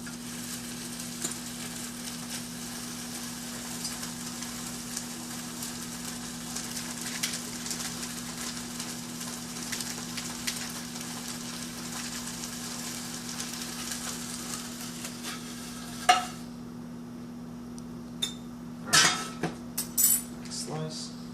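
Meat sizzling steadily in a hot pan while a sandwich is made, a constant soft frying hiss with a few sharp utensil clinks near the end.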